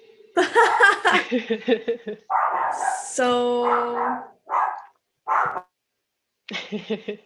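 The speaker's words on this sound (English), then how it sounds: "Oh my God, that's my dog." A pet dog barks several times close by during a quiet indoor conversation, sharp separate barks spaced across a few seconds, with someone speaking and laughing in between.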